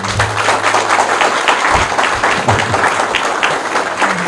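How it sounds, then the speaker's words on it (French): Warm audience applause at a health-centre staff installation ceremony, many hands clapping steadily and loudly for several seconds, with a low hum underneath. "S'il vous plaît, applaudissez pour nous."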